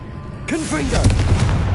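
A Confringo blasting spell in the Hogwarts Legacy video game bursts with a loud boom. Rumbling, crackling explosive noise follows and carries on to the end, with a brief voice-like sound near the start.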